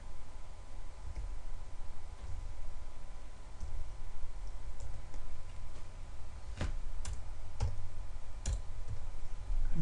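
Several sharp, isolated computer mouse clicks, close and fairly quiet, come at irregular intervals over a low, steady background hiss, mostly clustered near the end.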